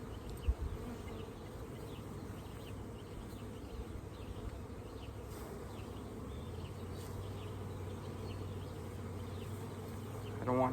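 A dense, steady drone of many honeybees buzzing close by around an open hive, a continuous hum with no one speaking.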